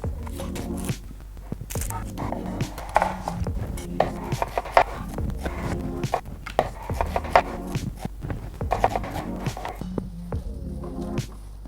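Onion being roughly chopped on a wooden board for homemade chicken stock, a run of irregular close knife thuds with brief pauses and a faint low hum behind them.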